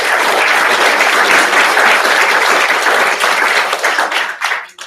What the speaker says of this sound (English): So a round of applause for all the speakers.